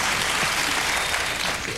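Studio audience applause at a comedy sketch of a Democratic presidential debate, a brief, dense wash of clapping and cheering.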